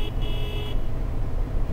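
A coach horn in Fernbus Coach Simulator honks twice in quick succession, a short toot followed by a longer blast, loud and close over a steady low engine and road rumble.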